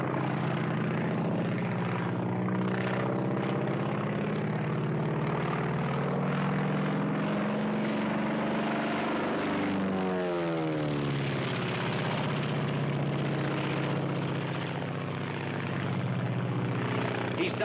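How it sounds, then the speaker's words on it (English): A World War II propeller airplane takes off, its engine drone loud and steady throughout, with the pitch rising and sweeping around midway as the aircraft accelerates and climbs. "Now let's just watch this takeoff."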